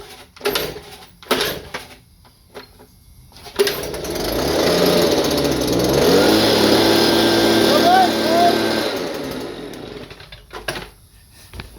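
A Stihl BG 86 leaf blower's small two-stroke engine, primed and choked after a starter-rope replacement, catches after a few short pull-start thumps, revs for several seconds, then cuts out. Quiet knocks follow.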